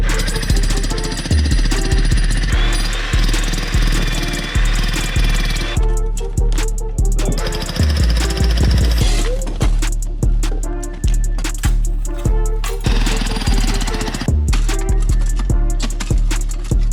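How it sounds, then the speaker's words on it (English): A jackhammer breaks concrete loudly and rapidly up close, hammering in repeated bursts with brief pauses between them. "when we use the jackhammer to break this concrete, it has somewhere to fall"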